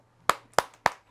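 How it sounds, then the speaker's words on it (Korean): Three sharp, evenly spaced hand claps close by in a quiet room at a small online book concert, each ringing out briefly before the next. "박수"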